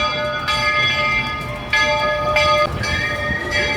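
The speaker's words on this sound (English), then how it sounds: "That was the train named for Walt during Disney" The Walt Disney World Railroad steam train at Magic Kingdom passes nearby, its rumbling rolling noise joined by several ringing bell strikes at uneven intervals.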